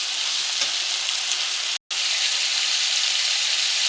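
Onions and tomatoes sauté in a hot pan for fish kulambu, giving a constant close sizzle that cuts out for a brief instant midway and then resumes just as loud, with no voices.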